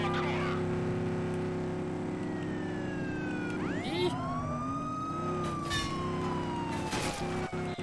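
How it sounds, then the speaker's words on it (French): A police car driven in the video game American Fugitive, its steady engine drone running throughout with a wailing siren sweeping up and down over it, loud and close. "elle est bien la voiture de flic"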